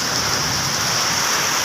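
Heavy rain pours down steadily in a dense, loud, unbroken wash of hiss, close by and constant until it cuts off abruptly at the end.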